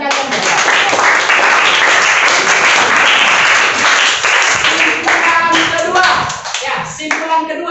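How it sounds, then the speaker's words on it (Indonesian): Classroom students applauding their classmates, a loud, dense burst of many hands clapping together for several seconds before thinning out to a few scattered claps at the end. "Beri tepuk tangan untuk teman kalian."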